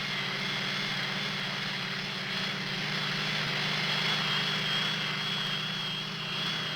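A modified B-57 Canberra with long 122-foot wings, two large turbofans and two smaller turbojets, taking off: a steady, moderately loud jet roar with a high whine held over it, continuous for several seconds.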